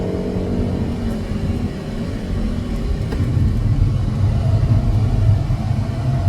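Peugeot 308 GTI driving through a near U-turn, its engine a steady low rumble with road noise that swells slightly as it accelerates out of the turn.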